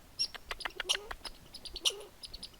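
Bright, clipped chirps and clucks from a grouse come in quick irregular bursts, fairly faint and close, with quiet pauses between them and no talking.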